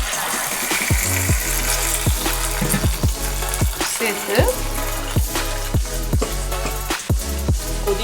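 Spices for tempering sizzle and crackle continuously in hot oil while a utensil clinks against a pan in a steady, repeated rhythm nearby.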